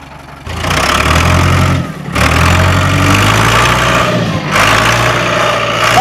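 A tractor engine running loud and close after a gear change, a steady low rumble with brief dips in level as the gears shift.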